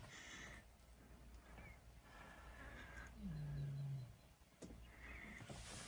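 Deep lion roars rumble from a distance, one long low call swelling in the middle, over a steady outdoor hiss like light rain.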